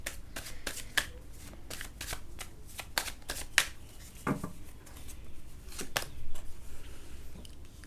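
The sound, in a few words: shuffling tarot cards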